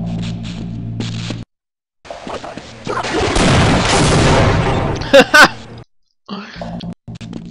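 A loud, close explosion in the Half-Life video game, a long roaring blast that swells and fades, following a stretch of low game ambience and a brief silence, with sharp crackles near its tail.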